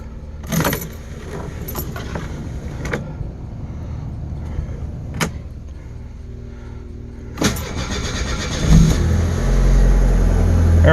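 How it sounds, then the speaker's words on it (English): Keys jangle in the ignition of a 1988 Ford Escort, then the starter cranks and the cold engine catches, settling into a steady idle that swells louder toward the end. "we're gonna do a cold start."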